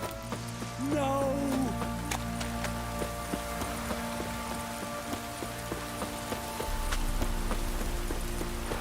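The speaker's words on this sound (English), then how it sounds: "It's ploughing, pouring again. This downpour's a bastard" Heavy rain pours steadily in The Witcher 3, a dense hiss filling the scene, with horse hooves clopping and a brief voice over it.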